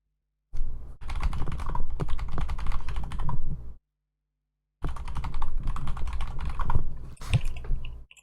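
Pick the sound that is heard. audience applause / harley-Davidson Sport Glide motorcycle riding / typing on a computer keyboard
typing on a computer keyboard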